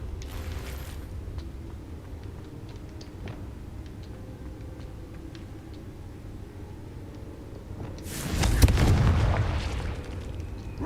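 A Confringo fire spell blast erupts in the Hogwarts Legacy video game, one loud broadband boom near the end after a long quiet stretch of faint game ambience, with a brief swish at the start.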